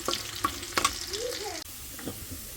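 Garlic frying in hot oil for tempering greens, with a stir of clinking spoon scrapes early on, then a soft steady sizzle continuing near and moderate in level.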